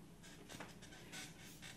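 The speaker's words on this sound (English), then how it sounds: "I have to adjust myself in the squeaky chair, so you're going to hear some squeaking" A squeaky chair creaks as someone shifts their weight in it, with a few soft, quiet creaks and rustles close by, and no talking.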